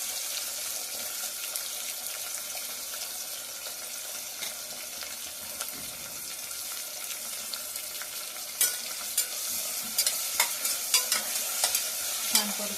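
Chopped tomatoes with onion sautéing in a pan for rasam rice, a steady close sizzle under stirring, with sharp spoon clinks against the pan picking up near the end.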